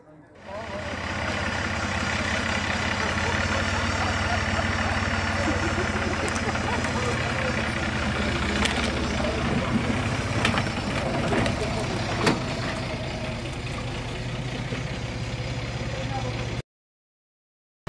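A steady low engine drone runs continuously and fairly loud, with occasional clicks and knocks on top, then cuts off abruptly near the end.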